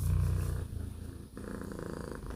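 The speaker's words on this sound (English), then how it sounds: "She increased the volume of her purrs." A cat purrs close and loud in a steady, rhythmic rumble, pausing briefly for a breath before resuming just as strongly.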